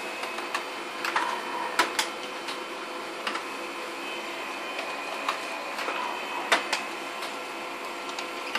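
A printer runs a batch of presort standard envelopes, whirring steadily with repeated sharp clicks and clacks as each envelope feeds through, a busy mechanical rhythm nearby with no talking.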